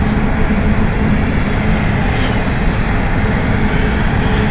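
An Airbus A220 jet takes off at London City Airport, its broad, steady engine roar filling the air continuously and loudly without a break.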